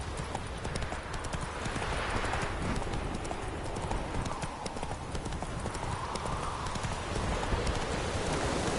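Roach the horse trotting in The Witcher 3, a steady rhythmic clip-clop of hooves under a constant wash of game wind and ambience.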